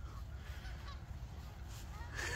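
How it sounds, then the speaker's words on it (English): Honking from geese, one likely a Canada goose, at a riverside park in the Smokies, with a louder cluster of calls near the end over steady outdoor background noise. "Do you think he thinks he's a Canadian geese?"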